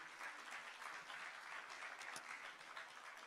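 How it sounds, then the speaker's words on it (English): An audience at an International Animation Day 2025 event gives a steady round of applause, sustained dense clapping heard from within the hall, fairly quiet in level. "Another round of applause, another round of applause."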